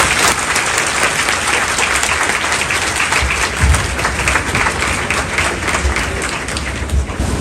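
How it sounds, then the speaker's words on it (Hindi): Loud, sustained audience applause fills a hall at a coaching institute's anniversary event, a thick, even roar of clapping with no break from start to finish. "जोरदार तालियों के साथ"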